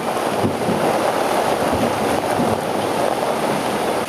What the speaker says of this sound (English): Oh my god, that's windy.